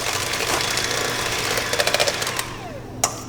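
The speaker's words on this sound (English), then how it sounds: "I'm going to beat it until it starts to look foamy" An electric hand mixer beats egg whites with cream of tartar toward a foamy stage, a steady broadband whirring buzz that runs throughout with faint rattling pulses near the end.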